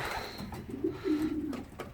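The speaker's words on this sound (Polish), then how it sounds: "Siedzą tu gołębie już, tak jak mówiłem, jajka mają zniesione." Pigeons coo softly in a loft where birds sit on laid eggs, a low rolling coo repeating a few times, fairly faint and alone with no talk.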